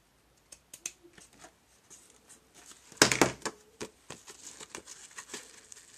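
Scissors trimming a paper Christmas card, a few soft snips and paper rustles with one louder cluster of cutting in the middle, close and quiet with no talk.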